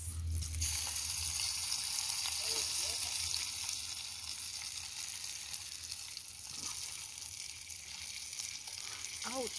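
Janga crayfish fry in a pot on an outdoor coal stove with a steady loud sizzle and crackle, occasional stirring scrapes, and faint voices in the background.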